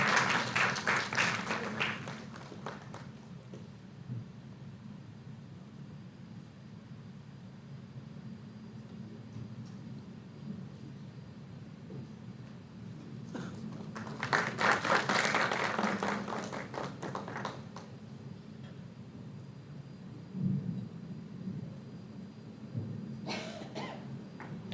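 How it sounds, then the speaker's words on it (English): Scattered rounds of applause break out from an audience at an academic conference, with clapping bursts near the start, a louder round midway and a brief one near the end over a low hall hum. "I would request everybody to give a huge round of applause."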